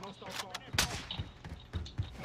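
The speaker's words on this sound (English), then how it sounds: "Ah, I got sniped by AR." Gunfire in the Warzone video game comes as a burst of sharp, loud cracks with a heavy report near the start, followed by scattered shots mixed with voices talking over the action.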